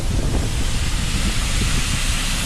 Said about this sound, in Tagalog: kaya pala nadidrain yung hangin ko